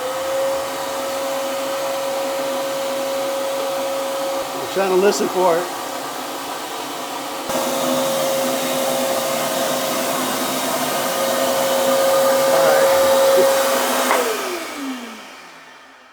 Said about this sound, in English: we're gonna go fishing for it with the vacuum